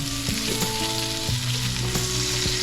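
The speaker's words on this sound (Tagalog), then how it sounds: "Haluin mo siya ng konti para mabalance kahit paano yung luto ng onion." Chopped onion sizzles and crackles steadily in a hot pan for a pork chop bistek, with repeated scraping knocks from a spatula as it is stirred, loud and close with no talking.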